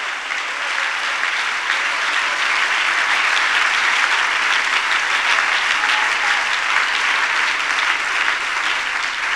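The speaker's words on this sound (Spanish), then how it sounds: "Dele ese aplauso con fuerza a él." Church congregation clapping strongly during a Spanish-language worship service, a steady, loud, dense wash of applause that holds evenly throughout with no speech over it.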